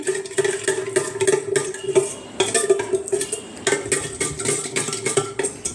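A spoon stirring salt, chaat masala and fennel powder into a glass of buttermilk, with quick rhythmic clinks of metal against the glass repeating steadily, close and bright.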